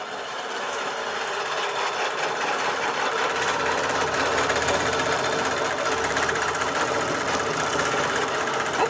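A sewing machine runs steadily while stitching a row of a quilt, giving a continuous close mechanical whir with fast needle chatter and no pauses or talking.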